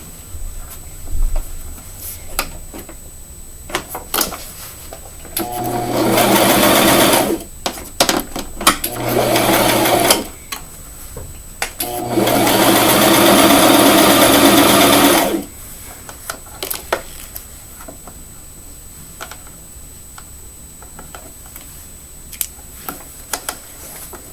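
A sewing machine runs in two long steady bursts and a few shorter ones while sewing a pink frock, close and loud, with quiet handling clicks and fabric rustle in the gaps.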